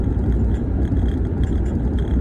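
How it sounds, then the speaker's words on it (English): Truck driving on rough road, a steady loud engine and road rumble throughout with a bumpy, uneven low drone and no talk. "you can probably hear it. My truck just sounds bumpy."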